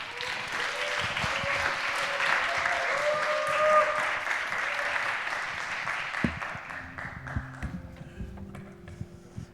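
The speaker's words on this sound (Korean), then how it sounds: "우리 따뜻한 박수로 환영해 주시면" Church youth congregation claps warmly to welcome a speaker, a dense round of applause that fades out after about six seconds, leaving scattered claps, footsteps and room noise.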